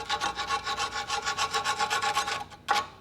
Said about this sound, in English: Use a file or wire brush to clean all of that off, all the rust